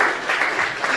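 A church congregation claps together in a brief, lively burst of many hands, a full, steady patter lasting about a second.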